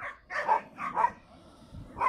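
Dogs barking in the daytime play area of an animal shelter, with four or five short yappy barks spaced irregularly, moderately close and alone.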